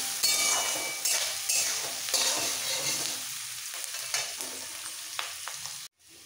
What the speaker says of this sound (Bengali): এইবার এই পেঁয়াজটাকে একদম লাল করে ভেজে নেব।